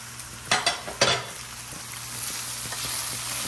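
Chow mein noodles being stir-fried with vegetables, green beans and green onion, with a few sharp utensil clatters against the pan followed by a steady close sizzle.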